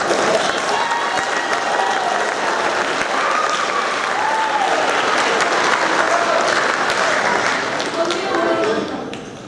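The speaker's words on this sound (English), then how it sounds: "let's just give all of them a round of applause" Sustained audience applause at an 8th grade awards ceremony, a dense steady wash of clapping from a large crowd lasting the whole stretch, with faint voices and a few whistles mixed in before it tapers at the end.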